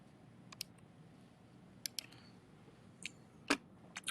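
Sparse key presses on a computer keyboard as numbers are entered: about six faint, scattered taps, some in quick pairs, over a quiet room hum with no talking.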